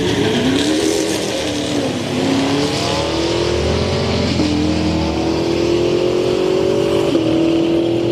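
Tesla Model 3 launching in a street-night drag race at Orlando Speed World, a loud nearby whine climbing steadily in pitch through several steps over a few seconds, with a broad roar underneath and no voices.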